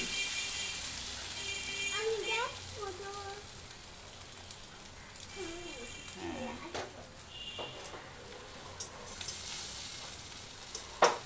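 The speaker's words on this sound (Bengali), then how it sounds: "বেগুনের সাথে ডিমটা এভাবে দিয়ে সুন্দর করে ভেজে নিতে হবে।" Eggs frying together with eggplant in a pan for a Bengali egg-and-brinjal dish, giving a steady close sizzle with a few faint tonal sounds in the background.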